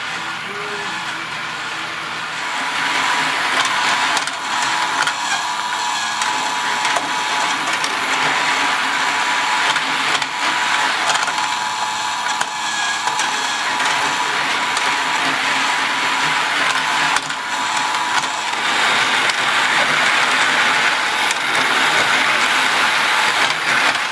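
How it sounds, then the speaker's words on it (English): A motor-driven conveyor runs steadily on a restored roller coaster motorcycle racing arcade game, giving a loud continuous mechanical whir and rattle that carries on for the whole stretch without talk. "We first turn the conveyor on"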